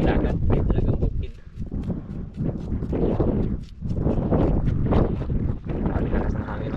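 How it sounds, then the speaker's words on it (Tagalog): A strong outdoor wind by the sea buffets the microphone in loud, rolling gusts that swell and ease without pause. A voice may be faintly present under the roar. "Ang lakas ng hangin mga idol"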